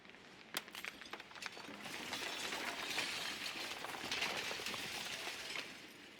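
Shattering in the video game Slay The Princess comes through as faint glassy cracks and clinks that swell into a sustained crystalline rush.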